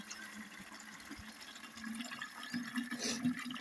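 Water from a hose pipe runs into a can, a faint, steady splashing and gurgling fill that grows slightly louder toward the end.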